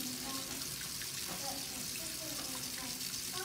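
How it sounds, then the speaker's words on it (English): Warm water runs from a tap in a steady, continuous hissing stream at moderate volume, with no break or change over its few seconds. "run that in the warm water or the soon to be warm water."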